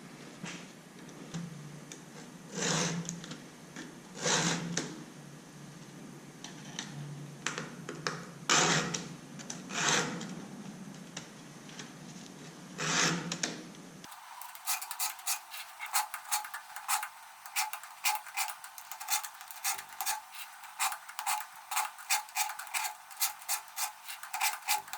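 Hand file rasping across the cutters of a Stihl Farm Boss chainsaw chain, repeated short strokes in a steady rhythm, close and clear, with a brighter, quicker run of strokes in the second half.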